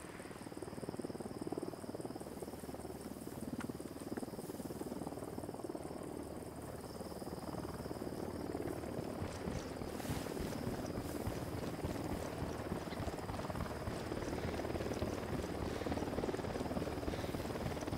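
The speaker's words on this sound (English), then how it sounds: "Choppers approaching." A helicopter in Ghost Recon Wildlands drones with a steady rotor rumble that holds at a constant level, while crickets and frogs chirp in a night-time jungle ambience.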